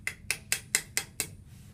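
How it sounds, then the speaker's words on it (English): A hammer taps sheet metal being formed into a cone, striking six times in a steady, quick rhythm with bright metallic clinks, close and fairly quiet. "Then I'm going to use my hammer again, and I'm going to tap it down."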